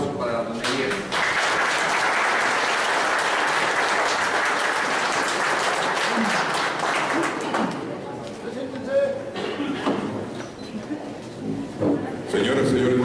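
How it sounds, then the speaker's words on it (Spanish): An audience gives a loud, sustained round of applause for an announcer at a 2011 lucha libre conference with three wrestlers. The applause swells, then thins out into crowd chatter and voices. "Y espero un fuerte aplauso para don Elías."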